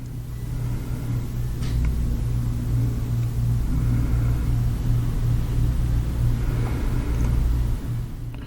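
A heavy tracked tractor vehicle drives along a road, giving a steady low rumbling engine drone with grinding texture that holds even throughout, moderately near, with no voices.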